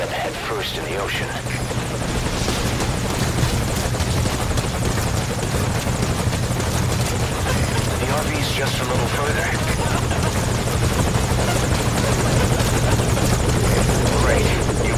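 Helicopter landing at a landing zone in the video game Metal Gear Solid V Ground Zeroes, a loud, close, continuous rotor roar and engine drone throughout, with radio voices speaking over it.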